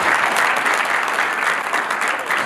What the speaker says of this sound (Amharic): እስቲ አጨብጭቡ ለጌታ ክብር።